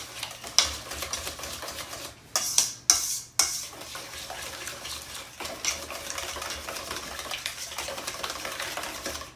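Whisk stirring a blended mixture in a pot while making pasticcio, with a steady, soft scraping and clinking throughout and a few sharper metallic taps near the start, nearby and without talk.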